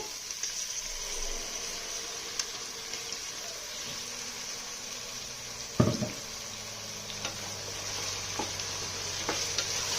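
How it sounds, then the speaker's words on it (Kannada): Ground masala paste fries in oil for avarekalu pulao with a faint, steady sizzle, broken by a few light stirring clinks and one sharper knock near the middle. "ಮಸಾಲೆ ಚೆನ್ನಾಗಿ ಎಣ್ಣೆನಲ್ಲೇ ಮಸಾಲೆ ಫ್ರೈ ಆಗಬೇಕು"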